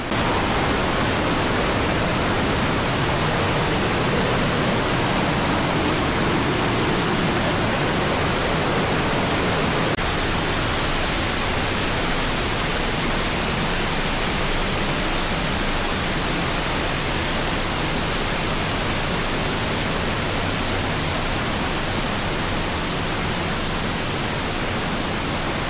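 Water falling and dripping near a mill in the Veneto region, a dense continuous rushing wash that stays loud and steady throughout with no voices.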